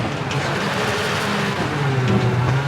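Rally car engines from the racing game V-Rally 4 hum and whine steadily at close range, with a continuous droning tone and shifting pitch as rival cars follow close behind.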